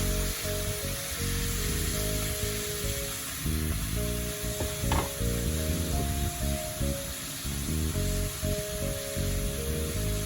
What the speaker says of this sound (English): going to turn my stove up just a little bit so my shrimp can cook